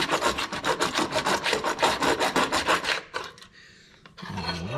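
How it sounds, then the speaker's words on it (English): A hacksaw cuts a starting groove into metal on the door latch of a 1948 Chevy pickup, a fast, even run of close, loud rasping strokes for about three seconds before stopping, followed by faint handling noises. "I'm going to take my hacksaw and get a groove started for the sawzall"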